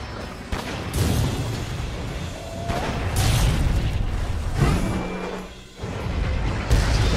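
A gunlance wyvernstake blast sets off heavy booming explosions in Monster Hunter World, with several loud crashing bursts over a dense, rumbling game soundscape.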